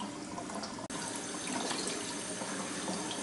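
Water running steadily into a black-and-white darkroom print wash tray, a continuous broadband splashing hiss at low level with a brief dropout near the start, no talking.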